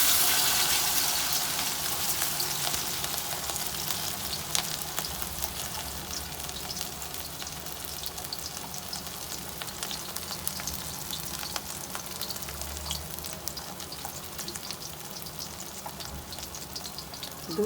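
Fish pieces fry in hot mustard oil over full heat, giving a steady, dense sizzle and crackle that holds evenly throughout, close and alone with no voices.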